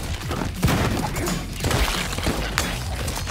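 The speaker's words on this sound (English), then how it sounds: "There's that metal crack again." Repeated sharp metallic cracks and crashing impacts from the video game Madness: Project Nexus, dense bursts of hits and breaking sounds during a brawl.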